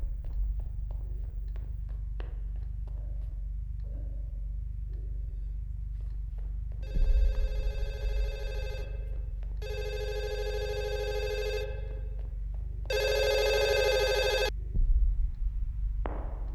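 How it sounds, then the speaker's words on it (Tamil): A telephone rings in three distinct bursts, each roughly two seconds long with short gaps, clear and fairly loud over a low steady background hum. "ஃபோன் அடிக்குதுங்க."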